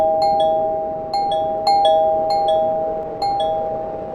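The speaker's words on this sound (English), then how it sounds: "Then the bell rang from the two-story house." A bell in a two-story house in a ghost town rings repeatedly, a bright chime of about six evenly spaced double strikes over a steady sustained tone, loud and clear with no voices.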